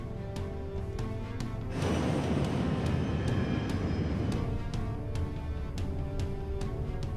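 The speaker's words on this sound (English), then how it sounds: "White Knight 2 and its spaceship cargo accelerate down the runway." White Knight 2 carrier aircraft with its spaceship cargo accelerating down the runway toward takeoff, a steady broad engine roar that swells in loudness after a couple of seconds and then holds, with a rhythmic rattling tick running through it.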